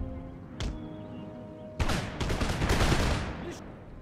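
Infantry in Empire Total War fire a musket volley: a single sharp shot, then a loud ragged crackle of many muskets going off together for about two seconds, with a late echoing pop.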